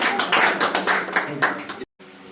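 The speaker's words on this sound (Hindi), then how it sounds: "चलो आप हम सब मिलकर परमेश्वर धन्यवाद करते, तालियां बजाते।" A Christian congregation claps together in a quick, regular rhythm of loud, close hand claps, with voices mixed in, before the sound cuts off abruptly.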